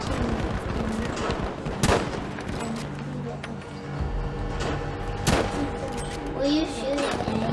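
Battlefield 5 gunfire cracks out in scattered sharp shots and short bursts among rumbling battle noise, some near and some distant, with voices talking over parts of it.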